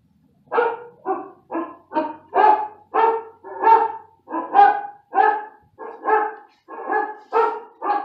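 A person imitates a dog, giving a steady series of about fourteen short, evenly spaced barks, close and clear with silence between each.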